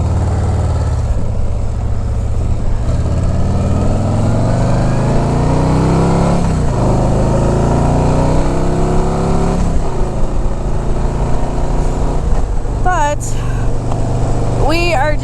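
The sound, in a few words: car traffic at highway speed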